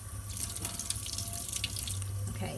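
A kitchen or bathroom tap runs warm water into a sink, giving a close, steady splashing gush with bright droplet spatter throughout a short stretch.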